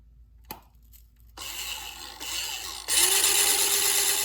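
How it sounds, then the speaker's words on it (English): A sharp click, then a power drill with a large drill bit whirs up and grinds steadily, rising in pitch and intensity as it bites through material. "for this, I'm just using this really large drill bit"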